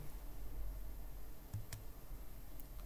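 A computer mouse clicks on a stake button in a crypto token staking interface: a couple of quiet, sharp clicks over a low steady room hum, with no talking.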